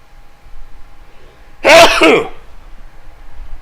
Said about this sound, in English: Sneeze alert.